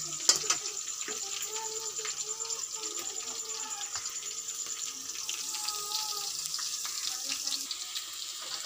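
Tempering for puliyora in a large kadai, a steady hiss of frying oil with scattered crackles and pops, someone speaking over it at times.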